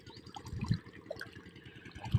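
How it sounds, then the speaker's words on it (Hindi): Thin borewell water trickles and dribbles steadily into a flooded rice paddy during transplanting, a faint continuous flow with a few slightly louder splashes. "बहुत मुश्किल से खेत में पानी चल रहा है। देखिए, बहुत थोड़ा थोड़ा आता है। बोरवेल से आ रहा है।"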